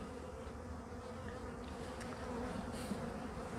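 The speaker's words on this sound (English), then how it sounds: "cluster of bees." A dense, steady hum of a cluster of honeybees buzzing together in a top-bar hive, constant and fairly quiet, with no voices.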